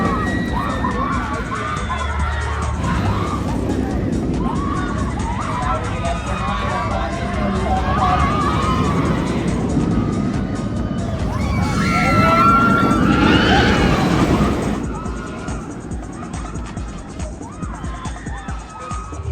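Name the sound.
Flash roller coaster ride, front car, Six Flags Great Adventure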